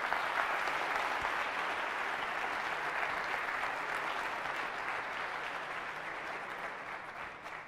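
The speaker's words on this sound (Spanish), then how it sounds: "Pues un fuerte aplauso." Audience applause in a university auditorium at the Navaja Negra security conference, a dense, even wash of many hands clapping that holds steady and then slowly tapers off, with no talking.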